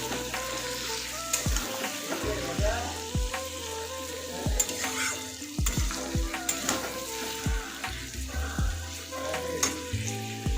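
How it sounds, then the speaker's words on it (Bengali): Pieces of mutton fry in an oily pan for mutton kasha, giving a steady close sizzle with repeated sharp clacks and scrapes as they are stirred. "দিয়ে কিছুক্ষণ ফ্রাই করতে থাকবো।"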